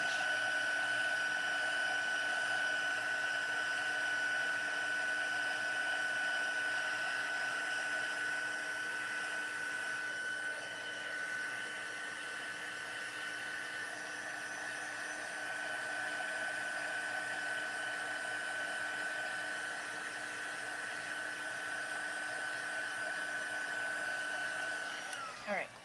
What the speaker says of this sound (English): I'm going to use my heat tool to try and dry this ink